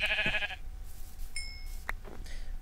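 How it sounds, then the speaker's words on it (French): A video game sheep bleats in short calls close by, first a loud bleat and later fainter ones, among light game sound effects and a faint steady tone, with no speech. "Il est où, il est où? Le petit mouton. Viens ici."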